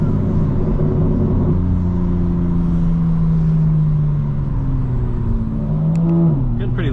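Low exhaust burble from a 2025 BMW M4 Competition xDrive with sport exhaust, heard from inside while cruising, a steady deep drone with rising and falling engine tones, no talking.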